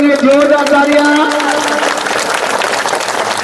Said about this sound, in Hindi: तो धन्यवाद करो परमेश्वर की, जोरदार तालियां